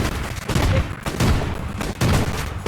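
Gunfire in the Rage of Car Force vehicle combat game, heard as loud, dense bursts of rapid shots in close succession over about three seconds, with no talking.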